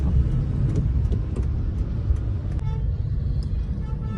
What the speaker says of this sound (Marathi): बऱ्यापैकी ट्रॅफिक आहे आज